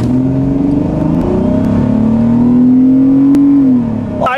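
A Chrysler LeBaron fitted with a new intake accelerates hard, its engine note climbing steadily in pitch as it revs up, loud and close for about four seconds before easing off, with no talk over it.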